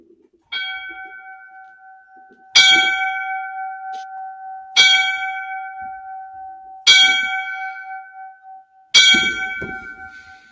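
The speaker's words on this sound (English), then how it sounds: "we're gonna give the 5 bells now for all the brothers who died in the line of duty" A ceremonial bell honoring firefighters who died on duty rings five slow, evenly spaced strikes. Each strike is loud and clear, and its hum lingers between blows.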